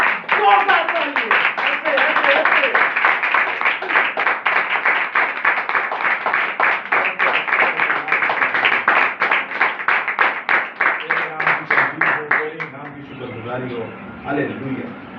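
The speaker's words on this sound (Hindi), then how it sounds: "एक बार जोरदार तालियां" A church congregation claps loudly in a fast, steady stream of rapid claps that goes on for about twelve seconds. The clapping then thins out and gives way to talk.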